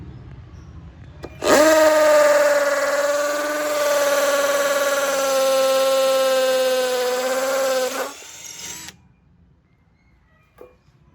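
Tio Moon cordless impact drill in hammer drilling mode, a loud buzzing motor whine with a rattling hammer action that runs for about six seconds, dips slightly, then winds down, close with no talk.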